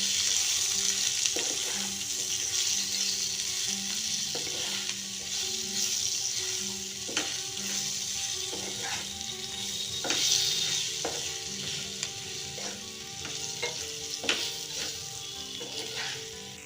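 Green chillies frying with turmeric, coriander powder, Kashmiri red chilli powder and salt sizzle steadily, with a spoon scraping and tapping the pan in frequent strokes, close and continuous.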